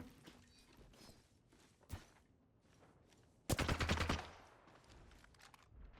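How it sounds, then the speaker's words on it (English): Gunfire in the battle royale shooter Apex Legends, a loud rapid burst of shots erupting about midway after quieter game noise and a single sharp report, with no talk. "So I shoot my gun."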